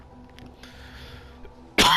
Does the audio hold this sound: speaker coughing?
yes